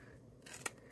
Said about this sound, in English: And you take your scissors and you snip up